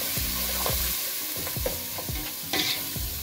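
Masala with dhania-jeera mix and turmeric stirred in a hot pan for a lamb curry: a steady sizzle under repeated scraping strokes of the spoon, roughly one every half second, close and fairly loud.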